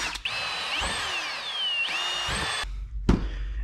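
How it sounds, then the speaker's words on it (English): A power drill bores a series of holes to cut out a template for a trolling motor build on an Old Town Topwater 120 PDL kayak, whining up and down in close, loud bursts with brief pauses between. "After about 10 minutes of just drilling, we have our template cut out for the most part."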